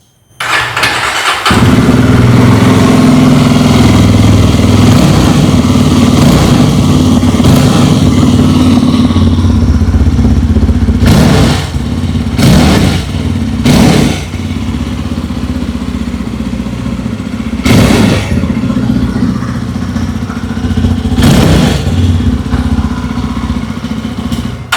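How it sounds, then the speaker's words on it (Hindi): A 2025 Yezdi Roadster base-variant motorcycle engine starts and idles with a deep, throbby exhaust note, punctuated by several sharp revs that rise and fall. "आइए अभी सुन लेते हैं इस बाइक की एग्जॉस्ट नोट"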